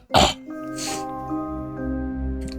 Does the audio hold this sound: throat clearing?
yes